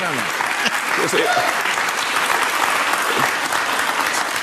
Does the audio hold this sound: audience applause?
yes